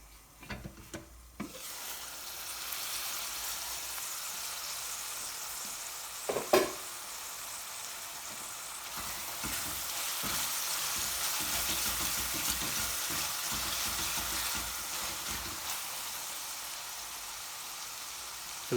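Onion and tomato frying for a curry base in a lidded pan, a steady soft sizzle and hiss running throughout, with a few clinks and knocks near the start and a brief bump partway through.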